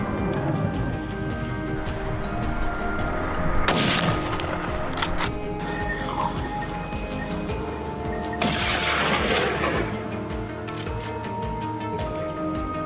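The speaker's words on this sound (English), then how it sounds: "I seized the opportunity and took the shot." A rifle shot during a wild boar hunt on a mountainside, sharp loud cracks with a broad burst near the four-second mark and another around eight and a half seconds, over steady outdoor background noise.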